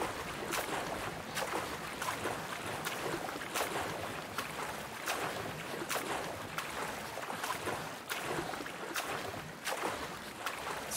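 A boat in Far Cry New Dawn speeds across the water, with steady rushing wash and rhythmic slaps of spray against the hull every second or so, continuous and fairly close without speech.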